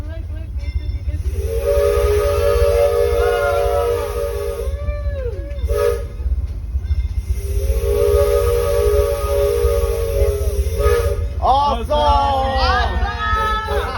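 Disneyland's Fred Gurley No.3 steam train departing Toontown sounds long, loud, steady steam-whistle blasts over constant hissing and rumbling, with children and adults talking and calling out near the end.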